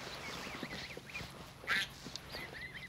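Baby chicks being moved to a new, roomier pen, heard as faint, repeated high peeping chirps over a low rustling background, with one brief louder squawk midway.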